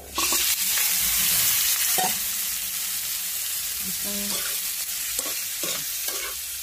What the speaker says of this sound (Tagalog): Sasangkutsa lang natin to hanggang sa lumabas yung sarili ng mantika.